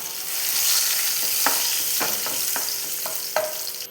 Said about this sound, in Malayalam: രണ്ട് വറ്റൽമുളക് ചേർത്ത് കൊടുത്ത് മൂപ്പിച്ചെടുക്കണം ആ കൂടെ തന്നെ രണ്ട് തട്ട് കറിവേപ്പിലയും കൂടെ ചേർത്ത് കൊടുക്കാം